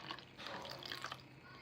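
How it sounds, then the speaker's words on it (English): Water running and trickling into a small fireplace-style diffuser as it is filled, a faint, steady liquid splash with no talking. "you fill it up with water."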